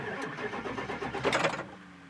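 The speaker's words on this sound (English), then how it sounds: "you're going to get at least the engine cranking over" A 7.3 Power Stroke diesel truck engine with a no-start fault cranks over steadily and loudly up close, a continuous churning starter rhythm with no catch.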